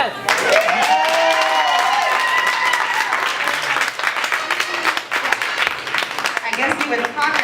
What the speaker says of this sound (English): can everybody please give her another round of applause?